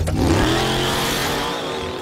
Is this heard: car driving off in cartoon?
yes